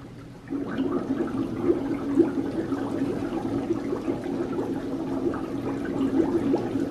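A homemade egg cleaner driven by an air compressor bubbles steadily in a tub of water with freshly collected eggs, giving a continuous close churning and gurgling wash with no talk over it.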